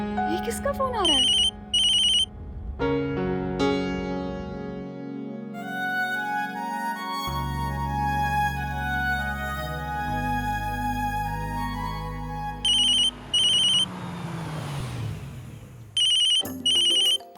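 A phone ringtone rings in a melodic pattern through a TV drama scene, repeating bursts of high electronic tones, with voices and other sounds interleaved around it.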